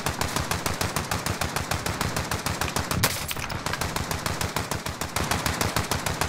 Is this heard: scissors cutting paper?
no